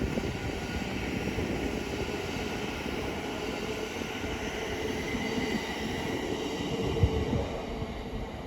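Class 700 passenger train 700-110 passing Potters Bar station on the East Coast Main Line, a loud, continuous rumbling roar of wheels and motors sustained throughout at close range, with no voices.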